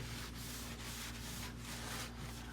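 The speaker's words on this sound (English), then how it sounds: "I'm just wiping this down." Steady rubbing strokes of a cloth wiping down a white cabinet with a refilled spray cleaner, close and continuous with faint periodic swipes over a low room hum.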